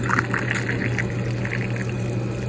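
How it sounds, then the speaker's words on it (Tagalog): Water pours steadily into a cup of coffee, a continuous close trickling and filling sound with no talking. "Ayan, lagyan na natin ng tubig."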